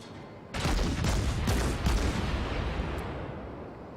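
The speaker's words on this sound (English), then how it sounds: "Next volley, I'll switch to AP rounds." Heavy naval guns fire a volley in World of Warships: several deep, booming blasts land in quick succession, each rolling into a loud, sustained rumble that slowly fades.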